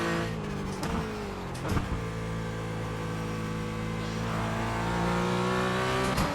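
A Porsche 718 Cayman GT4 engine in the iRacing game revs and pulls under load, a steady loud drone with pitch rising and shifting between gears.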